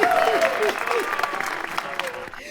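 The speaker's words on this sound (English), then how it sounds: "Van Dijk, you deserve a round of applause for that." A short burst of clapping and cheering from a small group plays as a sound effect, fairly loud and under excited talk throughout, fading toward the end.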